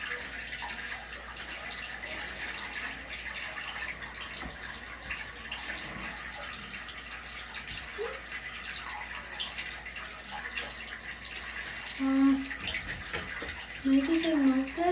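A shower runs in a steady, close hiss while a dog is washed, with small splashes and a few faint squeaky sounds near the end.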